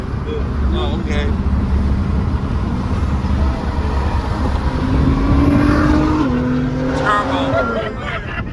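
A turbocharged car engine, amid a Lamborghini Huracan and Nissan GTR on the street, revs and roars loudly and continuously nearby, with a rising whine toward the end and voices in the background.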